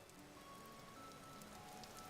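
Faint, steady rain patters throughout a downpour in the video game Vintage Story, a soft continuous hiss with no voices.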